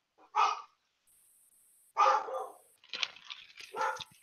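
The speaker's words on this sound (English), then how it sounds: "Dogs are barking." Dogs barking indoors at a house, with several separate sharp barks and yips spread out over a few seconds, at moderate distance with no speech.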